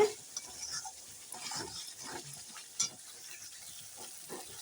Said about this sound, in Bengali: কাশ্মীরি লঙ্কার গুঁড়ো দিয়ে এখন আমি একটু ভালো করে নেড়ে দিই মশলার সঙ্গে এটাও কষানো হয়ে যাবে